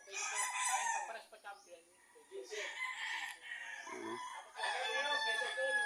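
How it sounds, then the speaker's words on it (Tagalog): Several roosters on a farm crow loudly and repeatedly, close by, with calls overlapping and occasional clucking between them. "Daming manok."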